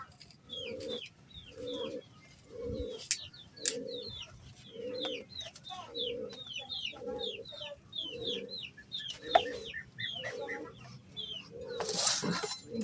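Chickens and a rooster cluck in a repeating rhythm of short calls, with sharp higher chirps and occasional louder bursts over a quiet outdoor background, moderately close.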